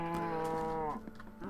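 One close, drawn-out cow moo in a small farm pen in a video game, loud and clear and followed by faint ambient noise.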